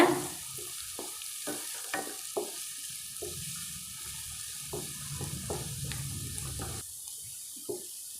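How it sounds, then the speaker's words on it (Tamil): Onions and curry leaves sauté in a pan for chicken ghee roast, giving a soft steady sizzle under repeated sharp scrapes and clinks of a stirring spoon, with the sizzling dropping away near the end. "நாம் வெங்காயத்தை சேர்த்துடலாங்க கூடவே நாம் கருவேப்பிலை சேர்த்துடலாம் நல்லா வதக்கிக்கோங்க"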